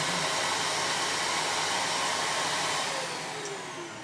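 A Dyson hair dryer runs at close range after being switched on, a steady loud whooshing roar of airflow that holds evenly and then slightly softens toward the end, with no talking.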